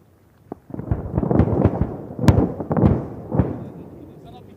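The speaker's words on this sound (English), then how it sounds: "And the explosions." Bombs dropped in an air force strike on an enemy arsenal detonate in a rapid series of heavy, booming blasts, several overlapping and rumbling loudly before fading out.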